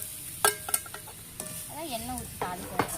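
Spices, including fenugreek, sizzle and crackle in hot oil for an eggplant kulambu, with a few sharp pops and stirring clinks, and a brief voice murmuring in the middle.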